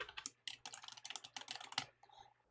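Rapid keystrokes on a computer keyboard, close and quiet, tapping in quick irregular bursts before a brief pause near the end.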